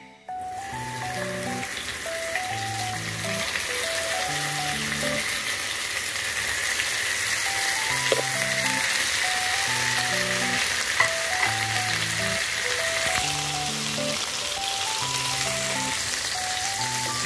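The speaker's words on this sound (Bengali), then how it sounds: "তো তেলটা গরম হয়ে গেলে মাছটা আমি ভাজতে দিয়ে দেবো।" Prawns frying in hot oil in a home kitchen, a loud continuous sizzle and crackle that runs steadily throughout with a few sharper pops, alone and with no talking.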